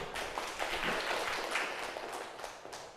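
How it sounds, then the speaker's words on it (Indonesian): Classroom pupils clapping together in a lively, steady burst of many hands throughout, moderately close and without talk. "Tepuk tangan dulu"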